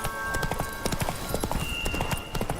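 A horse gallops in the video game The Witcher 3, with steady rapid hoofbeats close and prominent across the whole stretch, a faint tonal layer humming behind.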